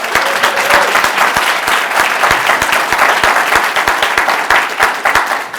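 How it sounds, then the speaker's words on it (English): Sustained applause from a town hall audience, dense and steady for several seconds with individual sharp claps standing out, loud and close, with no talk over it. "But one more round of applause for everyone who spoke."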